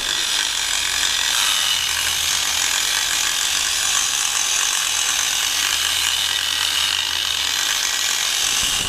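Porcelain stoneware tile edge being ground with diamond polishing pads (turtle pads), a steady, loud, continuous abrasive rasping with hissy high content and no pauses throughout.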